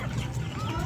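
Free-range backyard chickens cluck softly at feeding time, several birds murmuring close together in a continuous low chatter.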